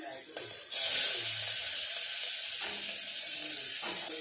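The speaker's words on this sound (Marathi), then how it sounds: "कांदा आहे ना छान असा लाल रंगावर करून घ्यायचा आहे" Chopped onion with green chillies frying in oil inside a pressure cooker for pea pulao, giving a steady close sizzling hiss that starts after a brief clatter and keeps going evenly.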